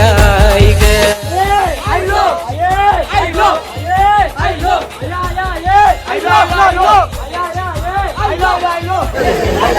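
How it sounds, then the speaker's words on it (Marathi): A large Sunday crowd at a temple, loud chanting and shouting voices rising and falling in rhythmic waves over a busy babble, with one voice talking up close. "संडे आहे त्याच्यामुळे पूर्ण जास्त गर्दी आहे"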